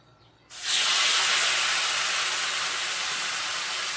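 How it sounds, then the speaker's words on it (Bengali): Drained taro leaves dropped into hot oil left from frying hilsa fish with chilli, bay leaf and cumin set off a sudden loud, steady hiss that continues close and strong. "ফোড়নটা একটু ভালো করে নেড়ে চেড়ে নিয়ে দিয়ে দেবো কচুর শাকটা, জল ঝরিয়ে রাখা কচুর শাকটা"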